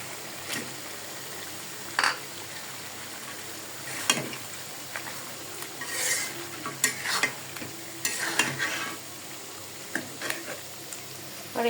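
Washed mung dal and browned chicken are stirred in a pan: intermittent scraping strokes and soft wet sizzling, fairly quiet and close, with brief bursts of activity.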